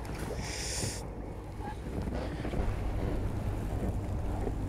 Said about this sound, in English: I wonder if this is the wind starting to drop off.